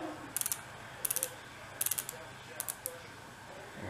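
BOA lacing dial on a Clorts 3F011A men's running shoe ratcheting tight, several quick bursts of crisp close clicks in short clusters, fairly faint and without talk.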